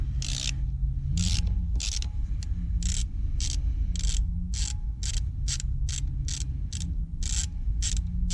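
Bolts come off the front idler cover of an A34 Comet tank in a steady series of short, rasping ratchet strokes. About a dozen evenly spaced bursts sound close and moderately loud over a low background hum.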